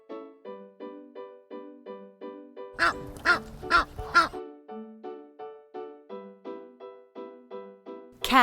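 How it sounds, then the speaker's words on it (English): Three or four loud, close goose honks from a toy animal sound collection break in over a repeating tinkling melody, each honk a short nasal blast. "goose"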